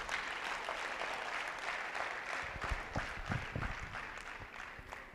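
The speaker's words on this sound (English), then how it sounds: "Please give me a round of applause." A live audience applauds at a university event, a dense wash of clapping holding steady for about five seconds with a few louder claps near the middle.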